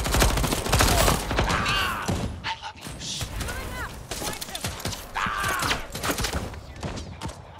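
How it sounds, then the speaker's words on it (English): Rapid bursts of gunfire in Deathloop, sharp clustered shots and mechanical clatter up close, broken by short pauses and mixed with a voice talking throughout. "I gotta press right click in order to shoot."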